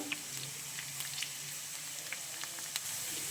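Chopped garlic and cumin seeds in hot oil give a soft, steady sizzle with scattered small pops and crackles, faint and continuous, with no talking.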